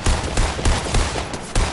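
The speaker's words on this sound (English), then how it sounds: "Who the fuck is shooting at me?" Gunfire in Fortnite, a close series of rapid, punchy shots in uneven bursts, about six distinct hits over less than two seconds, with no talking.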